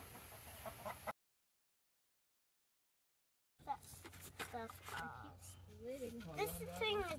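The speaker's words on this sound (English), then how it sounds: "The kids are catching chickens and clipping wings" Chickens cluck close by over a person's talking, with a sudden silent gap partway through before the clucking and voices return.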